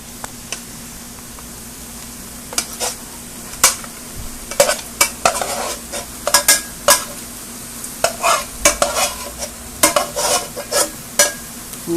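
A utensil stirs sautéed shrimp, spinach and pasta shells in a frying pan, with loud scraping strokes over a steady low sizzle, irregular and close up, and no voices.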